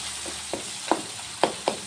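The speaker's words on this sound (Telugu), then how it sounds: "మొత్తం అన్నీ మ్యాష్ చేసేసుకోండి" Cooked tomatoes being mashed in a frying pan for a Rayalaseema puffed-rice dish, heard as a few soft squelchy presses and scrapes over a gentle background sizzle, close and fairly quiet.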